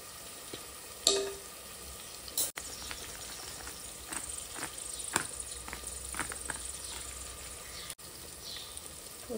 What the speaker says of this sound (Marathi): मस्त फ्राय झाले बघा कांदा आणि टोमॅटो पण। मी आता मसाला ॲड करते याच्यात।